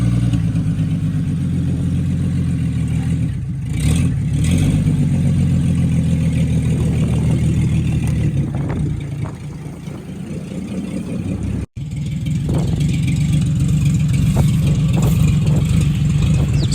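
A 1954 Chevy Suburban with a six-cylinder engine and three-speed runs and drives close by, its steady low engine note rising and settling as it maneuvers, with one brief cutout partway through.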